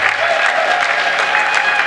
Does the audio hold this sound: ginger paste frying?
no